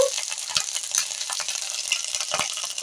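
Ginger paste frying in a pan with kalo jeere and bay leaves, a steady close sizzle with small crackles and occasional stirring scrapes, no voices.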